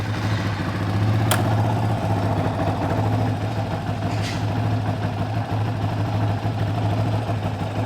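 A motorcycle engine with a freshly cleaned carburetor idles on half choke, running steady but slightly rough, loud and close with a continuous low drone and no talking.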